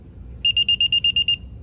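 Digital torque wrench beeping as target torque is reached while tightening connecting rod bearing caps on a 3.0L V6 Mitsubishi engine: eight quick, evenly spaced high electronic beeps, close and clear over a low background hum.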